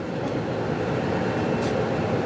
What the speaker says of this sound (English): the lifeline of Mumbai is on local train